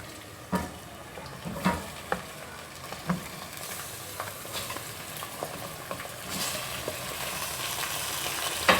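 Chicken pieces go into a pot of browned onions for a biryani and sizzle steadily, with sharp clatters and stirring knocks standing out close and loud. No one speaks.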